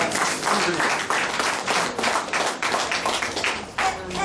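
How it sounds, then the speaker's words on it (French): An audience at a Haitian consulate soirée applauds Mme Bama again, a loud crowd of hands clapping in rhythmic waves, some individual claps standing out, continuing for several seconds. "je vous demande d'applaudir à nouveau donc Mme Bama"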